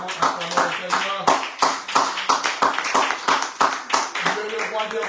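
A church congregation claps in a steady, rhythmic beat, loud and close, with voices singing and calling out over the clapping throughout.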